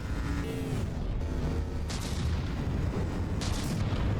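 Battleship cannons firing shells in the naval combat game From the Depths: dense, continuous rumbling booms with sharper cracks bursting through around the two- and three-and-a-half-second marks, loud and sustained with no talking.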